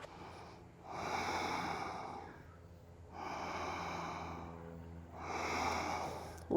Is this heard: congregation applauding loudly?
no